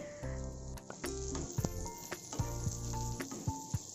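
Onions frying in a pan for a prawn masala curry, a soft sizzle with scattered crackles and taps from the pan, fairly quiet and close.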